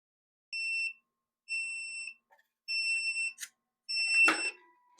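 Sailnovo 18-egg incubator alarm beeping in four steady high electronic tones, each about a second long with pauses between, followed by a short burst of handling noise close by.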